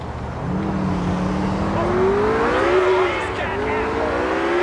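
A car engine in the video game GTA 4 drones steadily and then rises in pitch as it accelerates, a continuous smooth engine tone running the whole time.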